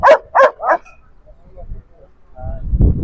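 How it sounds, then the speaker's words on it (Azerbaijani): A puppy at the Sabunchu dog market gives three quick, close yapping barks, followed by faint rustling and low background noise. "Böyle bir dənə küçük var."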